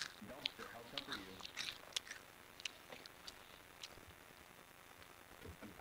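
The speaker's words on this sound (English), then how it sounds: "I can hear you, I can just hear you chewing now" Someone chews food close to the microphone during a Gmod Jailbreak game session, with soft wet crunching and clicking bursts under faint background noise.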